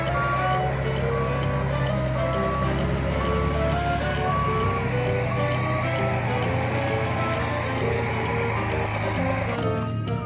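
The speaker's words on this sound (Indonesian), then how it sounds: "Ada mobil truk pasir besar." A large toy sand truck gives off steady electronic beeping, a repeating tone pattern laid over a constant mechanical hum that runs the whole time at a fairly loud, close level.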